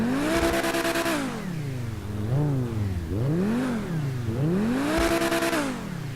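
The overhauled engine note of a Pegassi Vega supercar in a modded Grand Theft Auto 5 revs repeatedly, its pitch sweeping up and down in several loud, close throttle blips with a buzzy, harmonic-rich tone.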